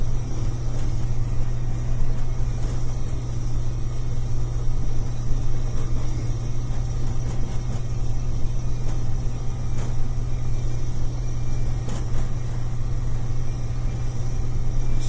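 International truck rolling on flat-spotted tires, a steady loud low engine drone with a continuous rumble and faint rhythmic thumps from the tires, heard from inside the cab.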